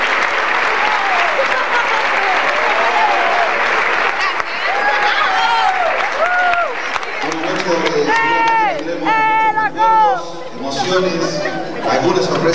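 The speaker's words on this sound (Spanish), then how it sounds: "¡Fuerte aplauso!" Strong crowd applause at an 80th anniversary celebration for Huracán, dense at first, then giving way to cheering, whistles and excited voices over continuing claps.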